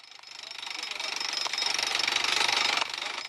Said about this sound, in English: Like convicts, armed with crowbars, hammers, and gasoline drills, they attack the mountain.